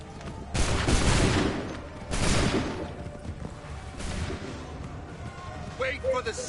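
Musket volleys crack out in Assassin's Creed 3, two loud, ragged bursts of massed gunfire, each with a rumbling tail, followed by quieter scattered shots and shouted voices.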